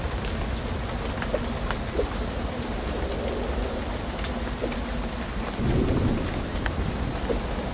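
Steady rain pours across a game world in Shadows Over Loathing, with low thunder rumbling beneath it and one heavier roll swelling near the end; no one speaks.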